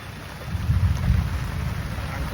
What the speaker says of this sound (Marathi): पाऊस पाऊस जाम आहे, बेकार पाऊस आहे.